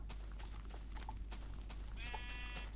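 A Minecraft sheep bleats in the game, a faint, brief digital bleat heard alone over a low, steady background hum.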